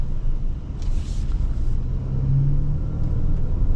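A 2027 Infiniti QX65 accelerating on throttle, a low engine rumble and road noise heard from inside the cabin, steady and close with a slight rise as it pulls, no talk.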